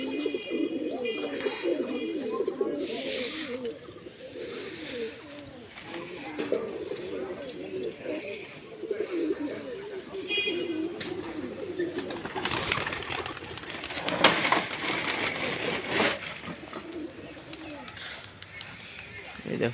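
Pigeons coo in a new loft, with low, repeated, soft cooing calls that run beneath people talking nearby.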